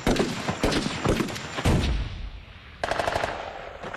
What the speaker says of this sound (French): personne ne savait d'où venait le coup de feu